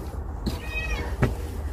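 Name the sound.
cat meowing, asking for food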